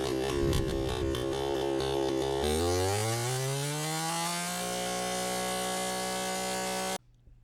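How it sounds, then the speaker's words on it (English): A Husqvarna 235e chainsaw with an over-oiling fault roars loudly, its engine pitch dropping and then holding steady at a high idle-like whine before cutting off abruptly near the end. "I'm going to run my chainsaw over this 4x6 here"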